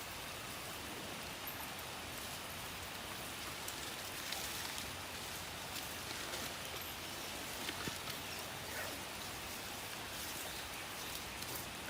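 Steady, dense rainfall hisses evenly over muddy, waterlogged ground throughout, a constant wash of drops with occasional louder patters, close by and uninterrupted.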